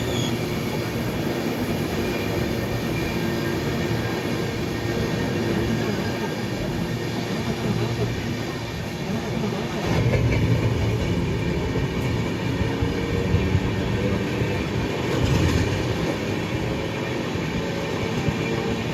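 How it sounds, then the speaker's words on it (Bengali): An Amrit Bharat Express passenger train rolls into Mughalsarai (Deen Dayal Upadhyaya) junction, heard from inside a coach as a steady, loud, continuous rumble of wheels and carriage noise with faint rail clatter throughout. "ট্রেন এই মুহূর্তে ঢুকছে উত্তরপ্রদেশের প্রথম স্টপেজ মোগলসরাই অর্থাৎ দীনদয়াল উপাধ্যায় জংশনে"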